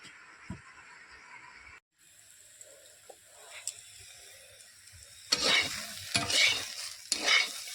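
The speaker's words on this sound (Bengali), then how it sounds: "পটল ভাজা হয়ে গেছে।" Pointed gourd (potol) frying in a pan with cumin and black cumin, a quiet low stir and scrape at first, then a louder, busier sizzle and clatter of stirring toward the end, with no talking.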